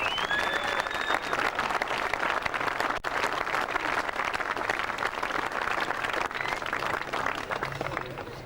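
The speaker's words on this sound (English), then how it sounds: "A warm round of applause" Sustained crowd applause at a 1996 rally event in New Zealand celebrating the place getters, dense steady clapping from many hands with a crowd murmur underneath.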